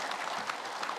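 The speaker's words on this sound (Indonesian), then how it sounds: "Boleh tepuk tangan Ibu," Brief burst of studio audience clapping at an Indonesian religious talk show, a dense steady patter of many hands, moderately loud, with no speech over it.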